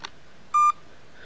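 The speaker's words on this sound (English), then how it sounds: "it beeps once to indicate that it is in normal mode" A Tamiya TEU-101 BK brushed ESC emits a single short electronic beep, clear and close in a quiet room, preceded by a faint click.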